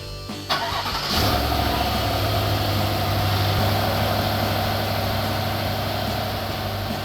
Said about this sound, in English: Now that everything's connected, we'll restart the vehicle.